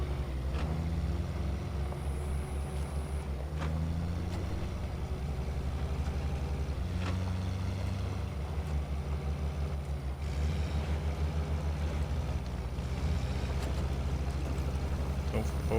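A Tuz 166 truck in SnowRunner drives with a steady, loud low engine drone and rumble throughout, with gear-shift changes in tone and occasional rattles.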